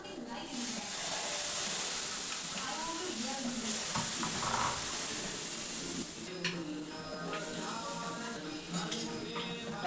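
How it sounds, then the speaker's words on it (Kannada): Gram flour dosa cooking in oil on a pan gives a steady close sizzle and hiss throughout, with light scraping and utensil clinks over the top. "ನಾನು ನೋಡ್ರಿ ಇಲ್ಲಿ ಕಡಲೆ ಹಿಟ್ಟಿನ ದೋಸೆ ಮಾಡ್ಕೊಳಕತ್ತೀನಿ"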